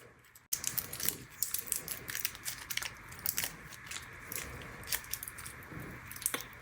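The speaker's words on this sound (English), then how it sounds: "Here is the iPod mini that he built, and we're going to unwrap it right now" Continuous crinkling and tearing of wrapping material being pulled off a custom iPod mini, close and busy with rapid crackles and rustles from start to finish, no talking.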